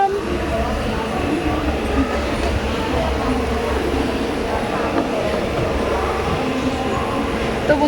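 Interior of a moving passenger train travelling from Baleshwar toward Cuttack, a steady loud rumble of wheels and carriage running continuously throughout, with faint voices mixed in under the rolling noise.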